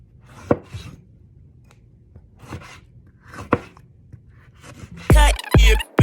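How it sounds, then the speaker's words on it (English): A knife dicing garden tomatoes on a cutting board for tomato sauce, with several sharp, separate chops spread through the clip and a quick burst of louder, closer cuts at the end. "I'm just dicing them"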